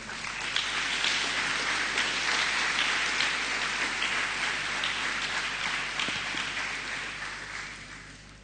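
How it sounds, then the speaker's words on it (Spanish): Audience applause at a church service, a steady wash of many hands clapping that fills the room and slowly fades toward the end, with no voices over it. "Démosle un fuerte aplauso."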